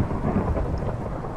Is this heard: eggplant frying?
no